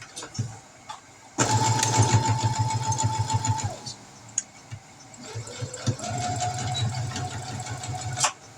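A sewing machine stitches fabric in a loud continuous run, stops briefly, then runs again for a backstitch, with a steady mechanical whir and rapid needle chatter close by.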